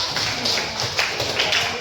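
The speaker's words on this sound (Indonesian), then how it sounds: "Tepuk tangan" Students in a classroom clap their hands in a brief, blended round of applause, with voices mixed in underneath.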